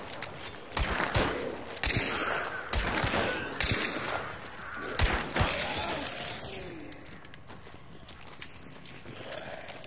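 Shotgun blasts in the video game Hunt, several loud sharp shots spaced irregularly amid gritty ambient noise and shuffling movement, with no talk over them.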